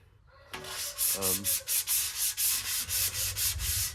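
Coarse P40 sandpaper scrubs rust off a car sill in a dry garage, a series of regular back-and-forth rasping strokes, close and loud, with no talking.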